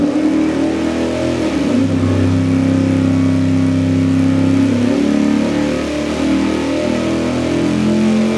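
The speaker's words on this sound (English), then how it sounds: "let's fire it up and run the Brodix intake manifold" A big-block engine fitted with a Brodix intake manifold roars loudly on a dyno, holding a steady, heavy drone that climbs and settles through several pitch changes with no voices.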